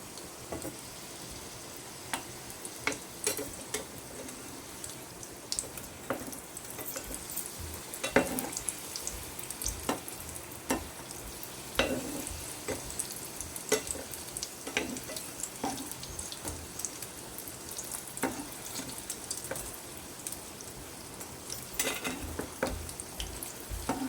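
Fish samosas frying in hot oil after being flipped, a steady soft sizzle with scattered crackles and occasional utensil clicks, moderately close and without talk.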